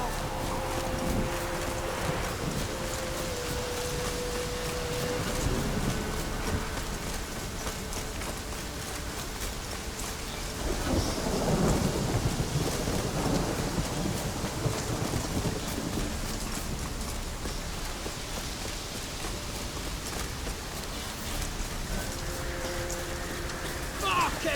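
Steady rain hisses with low rumbles of thunder and gusting wind in The Witcher 3, a continuous storm ambience with faint tonal sounds drifting in and out.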